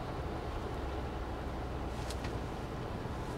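A Mahindra Thar diesel engine running steadily with a continuous low rumble after restarting on start-stop as the clutch is pressed, without any speech.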